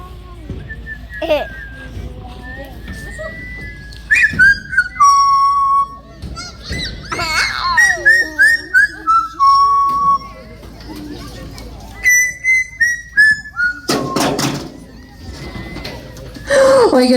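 A big parrot whistles a made-up tune close by, loud melodic phrases with sliding and held notes that stop and restart across the passage, with a few squawky honks mixed in.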